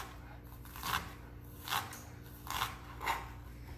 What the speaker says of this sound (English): So I'm just going to cut the onions.